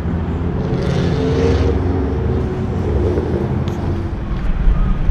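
Cars cruising Woodward at night, heard from inside a moving 1959 Chevrolet Bel Air, with a steady, loud road and engine rumble and wind buffeting throughout.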